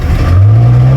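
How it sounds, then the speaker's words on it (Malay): A boat engine starts and runs on a fishing trip to Pulau Lakir, giving a loud, steady low motor drone whose pitch climbs slightly as it settles into a continuous idle. "Enjin pun dah start."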